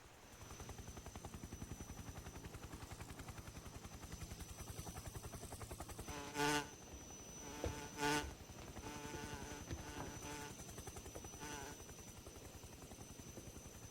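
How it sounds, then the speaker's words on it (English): A helicopter flies in Metal Gear Solid 3, its rotor producing a steady rapid chopping pulse throughout, with a couple of brief louder bursts interrupting the drone midway. "Fucking, I love helicopters."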